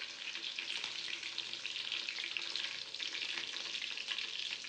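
Two chillies fry in hot oil in a pan for Marathi-style chicken sukka, giving a steady, dense, moderately loud sizzle with light crackle throughout and no talking.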